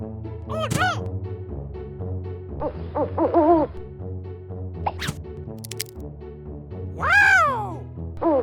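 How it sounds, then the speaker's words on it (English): An owl hoots in a children's animal-sounds cartoon, a few hoots set over light music, with a rising whoop and brief sparkly effects between them. "Owl!"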